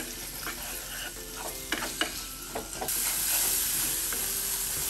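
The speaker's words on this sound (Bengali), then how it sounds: "দিয়ে নাড়াচাড়া দিব, আবারও 1 থেকে 2 মিনিট নাড়াচাড়া দিব" Onion leaves and tomato stir in a frying pan, a steady sizzle with several scraping clatters of the spoon, then the frying hiss swells louder and continues alone.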